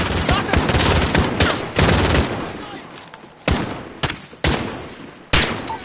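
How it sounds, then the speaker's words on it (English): Dense automatic and single gunfire from a Call of Duty Modern Warfare campaign battle, with loud sharp shots and bursts continuing throughout, including several distinct heavy cracks, under faint background voices. "Henik, open fire! Take cover"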